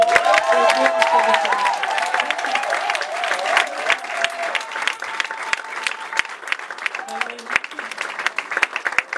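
A church congregation claps steadily throughout, a dense patter of many hands under singing and voices, close and lively.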